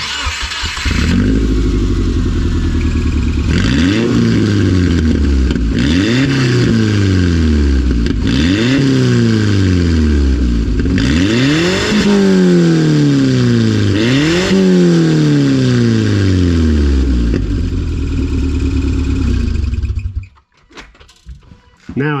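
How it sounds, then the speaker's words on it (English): A Subaru suffering from low power is repeatedly revved hard to blast debris from its exhaust, about six loud rising-and-falling engine surges in a row before the engine cuts back and things go quiet. "I'm gonna go start the car and blast out whatever I can that's in here."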